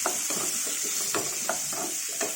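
Raw mango pieces sizzling in a pan while being fried for a chukkakura (sorrel leaf) pickle, a steady hiss broken by repeated stirring scrapes, close and without speech.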